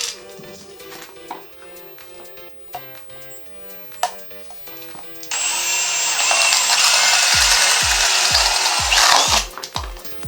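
A power tool cuts a hole through a wall cover plate held still, starting suddenly partway through as a loud steady whine with rhythmic thumps beneath, after quieter handling clicks and knocks.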